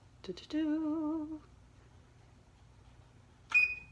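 A kitchen timer beeps as it is set to 30 minutes: one sustained electronic tone, a quiet pause, then a sharper high beep in a still room.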